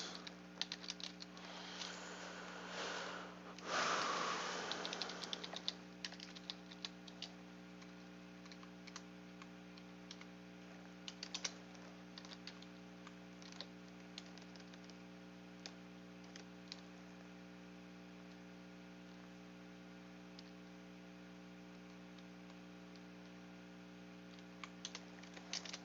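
Typing on a computer keyboard during a programming session: a dense burst of key clicks near the start, then sparse isolated taps over a steady low electrical hum.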